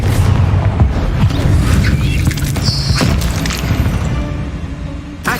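A Confringo fire spell explodes in Hogwarts Legacy, a loud, dense booming blast with crackling debris that fills the whole moment, with a few sharper bangs and crashes rising through the sustained roar.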